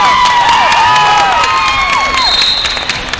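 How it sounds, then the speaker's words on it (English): Wrestling fans at a Division III sectional wrestling match cheer and shout after an overtime takedown win, a loud crowd roar with scattered whistles and high yells filling the arena. "They're cheering right along with Swihart."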